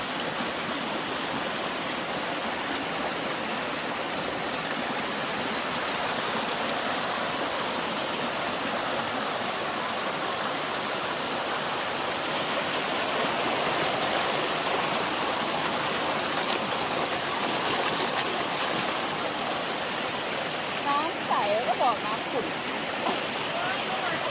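A mountain stream on the trail to Tat Moei waterfall on Doi Khun Tan, flowing with a steady, full rushing wash that stays constant and fairly close throughout, with faint voices in the background.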